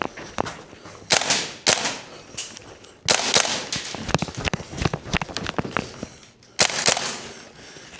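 A VFC G36C V2 airsoft gas blowback rifle fires indoors in sharp, clacking reports with the bolt cycling: single shots and short quick strings separated by pauses, loud and close.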